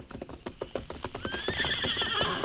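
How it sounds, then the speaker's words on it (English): Lone Ranger's great horse Silver clip-clops in a steady hoofbeat rhythm, then lets out a loud, shrill whinny that carries over the continuing hooves. "In response to the Lone Ranger's whistle, the great horse Silver emerged from the underbrush."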